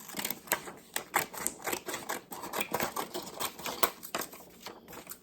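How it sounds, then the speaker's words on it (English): Scissors snip repeatedly through paper for a junk journal, a quick series of crisp cuts in uneven rhythm, close up with no voices. "Now I'm going to use these scissors and just clean it up."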